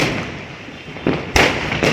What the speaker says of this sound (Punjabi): ਬਹੁਤ ਖਤਰਨਾਕ ਆਵਾਜ਼ ਧਮਾਕਿਆਂ ਦੀ